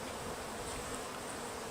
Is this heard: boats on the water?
no